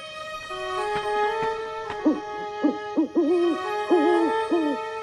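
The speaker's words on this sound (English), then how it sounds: "Just an owl." An owl hoots in a series of wavering calls, fairly close and clear, with a faint steady hum underneath.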